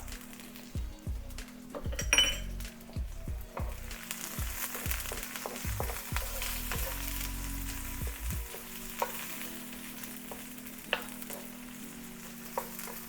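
Chopped small brown onion and garlic sizzle steadily in a pan, with frequent clinks and scrapes of a utensil stirring against the pan through the first half, settling into a softer continuous fry with occasional taps.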